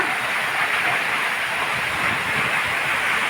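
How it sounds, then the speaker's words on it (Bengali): Heavy rain pours during a hailstorm as a dense, steady roar of hiss and patter, loud and unbroken throughout the short stretch. "অনেক সুন্দর বৃষ্টি"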